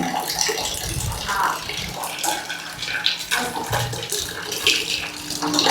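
Water pours and splashes steadily as a container is filled, a continuous hissing gush with shifting gurgles and occasional clunks, fairly close and loud throughout.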